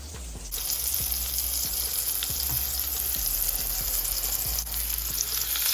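Gardein plant-based patties fry in a pan with a dense, steady sizzle up close, broken by faint scraping and tapping that sounds like a spatula. No one speaks.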